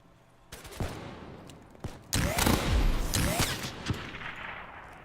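Gunfire in the video game Black Ops 3 on a multiplayer map, with a few isolated shots followed by a sustained burst of rapid automatic fire and echoing reports, moderately loud, with no voice.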